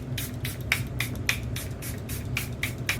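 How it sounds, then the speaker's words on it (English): Short hiss-like bursts from a spray bottle repeat about a dozen times in quick rhythm during makeup and hair styling, close and crisp over a low background hum. "I'm gonna spray."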